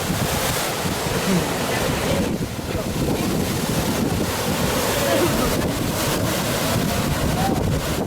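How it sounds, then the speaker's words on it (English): Powerful ocean waves surge at Queen's Bath, a lava rock pool on the Hawaii coast, making a steady, loud roar of churning surf with heavy wind rumble across the microphone and no break throughout. "Hawaii's Queen's Bath looks peaceful, but powerful waves have swept visitors away before."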